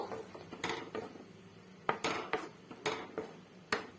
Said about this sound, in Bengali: এবার এটা ভালো করে মিক্স করব